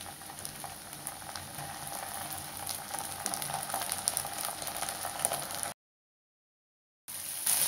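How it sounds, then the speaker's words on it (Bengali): Chopped onion with ginger-garlic paste frying in a pan for a hilsa fish curry with ridge gourd and potato, giving a steady close sizzle and crackle that drops to a brief silence and then resumes. "এটাকে একটু ভেজে নেব কাঁচা গন্ধ যাওয়া পর্যন্ত।"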